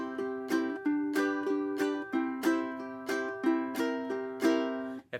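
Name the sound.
ukulele plucking strings 3 and 4 with strums between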